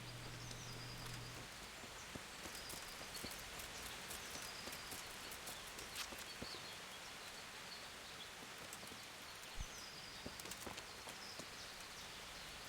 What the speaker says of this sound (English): At least the rain is probably covering up my movements a bit